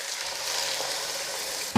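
Broth pours into a hot pot of browned beef and mushrooms for beef stroganoff: a steady bright sizzle hisses on, then a sudden louder burst of sizzling erupts right at the end.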